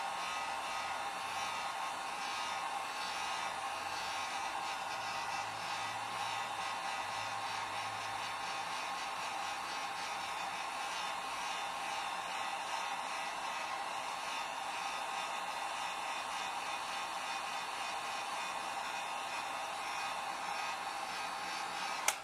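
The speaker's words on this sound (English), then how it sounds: "I'm going to take my heat gun on low and heat it up" A heat gun running on its low setting warms wax worked into a leather wallet edge, giving a steady, continuous blowing roar that holds evenly at close range for the whole stretch with no talk over it.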